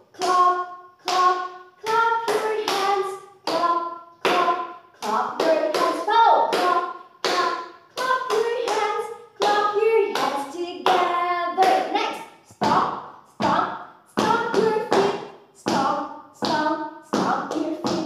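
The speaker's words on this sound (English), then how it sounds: "Clap, clap." Elementary pupils clapping along to an energizer song in a classroom, rhythmic bursts of hand claps mixed with chanted singing in steady phrases, close and lively throughout.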